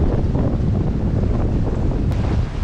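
Wind while sailing a sailboat, a loud, constant roar of gusting air buffeting close around, with faint water wash beneath and no talking.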